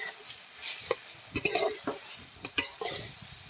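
Onions sizzling in a pan while a spoon stirs them, with sharp scraping clicks of utensil on metal over a low steady fry, close and fairly quiet, preparing a beef curry.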